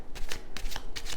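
A deck of tarot cards being shuffled by hand, with three quick riffling bursts of papery flutter in close succession, close and fairly loud with no voices.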